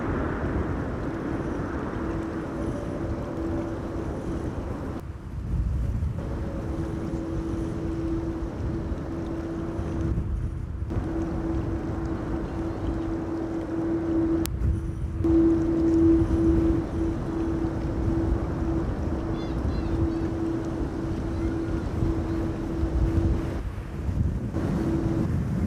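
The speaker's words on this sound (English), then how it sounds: "the wind is still blowing violently" Storm winds buffet Amsterdam Schiphol Airport, a constant loud rushing rumble with microphone buffeting and a faint steady drone, cut by a few short gaps.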